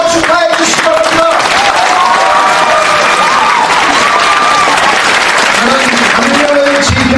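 A large crowd applauds loudly and continuously for several seconds at a Democratic United Party leadership convention, with voices faintly audible through the dense clapping.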